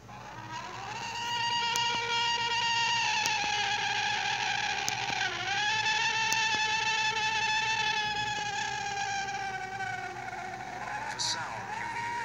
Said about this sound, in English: The sound you hear is what some experts claim to be a Bigfoot scream